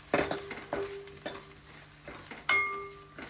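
Onion masala spices fry and get stirred in a pan, with several sharp, close scrapes of a spoon against the metal and a soft sizzle running underneath.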